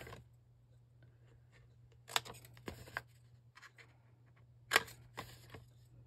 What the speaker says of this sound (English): So just go along and angle cut all those.